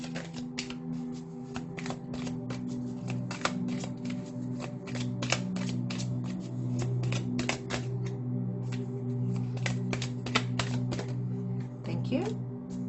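Goddess Oracle cards shuffled and drawn, a long run of rapid close snapping and flicking taps, quick and rhythmic over a low steady hum, with a voice speaking under it.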